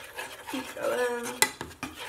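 Cauliflower cheese sauce is stirred in a pot, with a spoon scraping and swishing steadily against the metal and one sharp clink partway through, close and moderately quiet.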